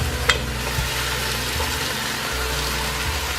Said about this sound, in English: Now I'm going to add my beef bones into this.